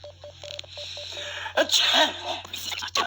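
A single sharp human sneeze bursts out loudly and close after a run of regular electronic beeps, with a second smaller sneeze-like burst at the end, in an indoor children's science show setting.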